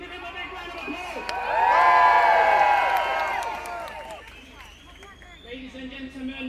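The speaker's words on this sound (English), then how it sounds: "Give him a big round of applause" A pro-Palestine demonstration crowd cheers and applauds a speaker outdoors, a swell of whoops, shouts and clapping that peaks and then fades back into murmuring crowd noise, with voices talking.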